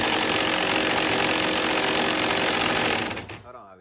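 A powerful air impact gun, running at roughly a couple hundred foot-pounds, loosens the steering wheel nut on a 2016-or-later Chevrolet Camaro. It makes a loud, continuous hammering rattle for about three seconds, then cuts off abruptly into near silence.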